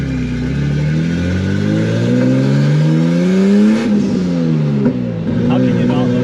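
A turbocharged widebody BMW E30 engine revs under load while driving, its pitch climbing steadily, then dropping at a gear change and climbing again, loud and close inside the car.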